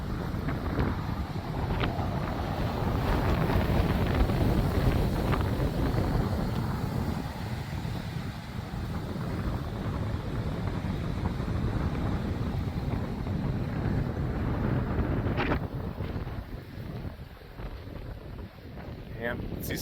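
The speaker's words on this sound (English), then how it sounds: "Yep, starting to get very windy." Pre-thunderstorm wind gusts in the USA on July 4 batter the microphone in a continuous loud rush, holding steady with a slight surge near the middle and easing a little toward the end.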